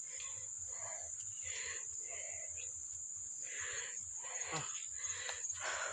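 Heavy breathy panting from a person walking on a muddy, slippery path, repeated huffs close to the microphone over a constant high whine of crickets.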